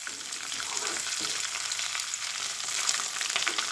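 Curry leaves, mustard seeds, dried red chillies and soaked rice crackle and sizzle in hot oil while tempering for temple-style pulihara, a steady dense frying hiss with tiny pops, close and continuous without talk.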